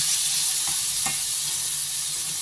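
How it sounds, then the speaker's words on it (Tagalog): Corned beef frying in oil in a pan, a steady close sizzle with a couple of brief stirring scrapes partway through, no voices. "Ito na, ilagay na natin ang ating corned beef."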